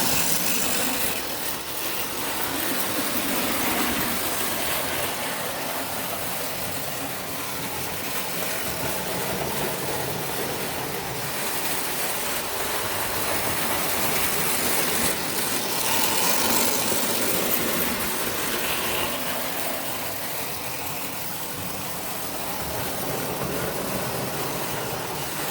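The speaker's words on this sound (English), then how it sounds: "because it's a DC motor, once you take power away, it stops" A DC electric motor fitted into a converted Bing engine runs steadily at part throttle, a continuous mid-pitched motor hum with a light mechanical rattle, held close and fairly loud for the whole stretch with no talking.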